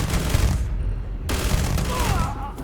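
Enemy gunfire in the video game Starfield, with dense rapid bursts of shots and booms running loud and continuous throughout, a brief lull partway through before the volley resumes.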